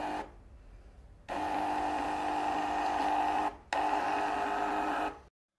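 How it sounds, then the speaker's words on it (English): A Rion AA-M1C1 audiometer's built-in printer prints a record, a steady mechanical whir with a brief hiss first, then two continuous printing runs split by a short pause, close and fairly loud. "Press the print button to print a record from the built-in printer."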